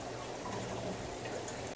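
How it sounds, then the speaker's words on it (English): Water pours steadily into an aquarium tank during a refill, a continuous quiet rushing wash with no voices. "As I start to refill my tanks with water"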